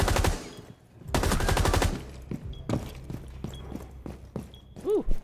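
Rapid bursts of pistol gunfire in the shooter game Casual Tower, two loud close volleys of quick shots, then scattered single pops and clatter fading into quieter game sounds.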